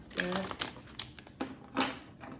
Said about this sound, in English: I'm going to shuffle off camera